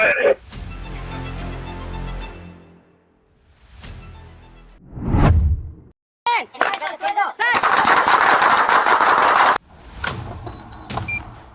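Police gunfire caught on a dashcam comes as dense rapid bursts of shots mixed with car and road noise. The shots come in loud stretches separated by quieter gaps, and there are some whooshes and other sounds between them.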